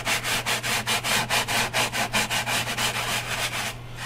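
Abrasive cleaning bar scrubbing an air fryer, a loud, close, gritty sanding stroke repeated about four times per second in steady back-and-forth rhythm, heard alone before it stops abruptly.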